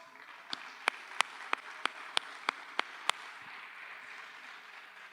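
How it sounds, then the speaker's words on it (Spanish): Applause from a church congregation during a worship service at a cathedral: a handful of evenly spaced, crisp claps over a quiet room hum, fairly faint and fading out after about three seconds. "¿Le damos el aplauso?"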